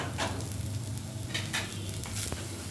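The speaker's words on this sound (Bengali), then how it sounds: "পেঁয়াজটা দেখুন ভাজা ভাজা হতে শুরু করেছে, লাল লাল হয়ে গেছে।" Onions fry in a pan for a Bengali lentil and mashed potato lunch, giving a soft continuous sizzle with occasional stirring scrapes, fairly quiet and steady with no talk.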